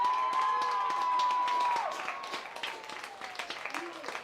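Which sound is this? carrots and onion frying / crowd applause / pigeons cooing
crowd applause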